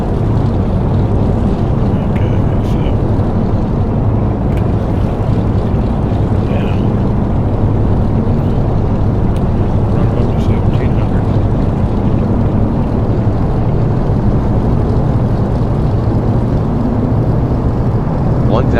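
Both engines of a DC-3 running in the X-Plane 11 flight simulator make a steady, loud, dense rumbling drone that holds unchanged throughout, with no voices over it.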